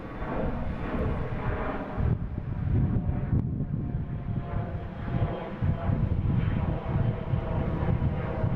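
A Delta airliner taking off at Boston Logan airport, a loud, steady jet engine roar that stays near and constant throughout, with wind buffeting the microphone.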